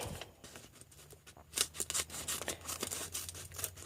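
Scissors cut through a folded sheet of fleece or paper from the folded edge toward the open edge, making quiet close snips and rustles. The cutting grows busier and crisper after a hushed start.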